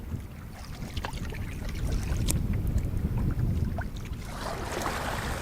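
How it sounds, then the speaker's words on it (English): A canoe is paddled into a headwind on Minnis Lake, with rhythmic paddle strokes and water sloshing against the hull under steady wind buffeting the microphone. "We've turned into the headwind on Minnis Lake now. Quite a bit tougher paddling"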